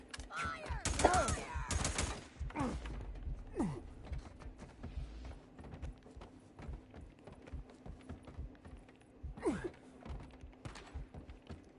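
Rapid gunfire bursts in the video game Days Gone, a dense rattle of shots in the first two seconds, then scattered single shots and another burst near the end, over a steady game background hum.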